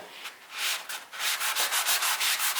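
Wood sanded by hand with sandpaper, working with the grain on a burned wood piece: a close, soft rhythmic scratching of repeated back-and-forth strokes, quickening into an even steady pattern.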